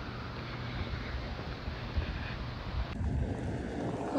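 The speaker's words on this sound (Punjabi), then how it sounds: "ਹਵਾ ਵੀ ਕਾਫੀ ਤੇਜ਼ ਚੱਲ ਰਹੀ ਹੈ" Strong wind blowing outdoors, a constant rumbling roar buffeting the microphone close by, steady and loud throughout.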